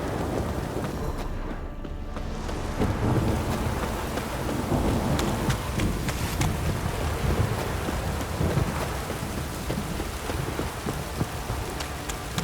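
Steady downpour pelts the ground in The Witcher 3, with deep thunder rumbling through at a constant, loud level; no voices.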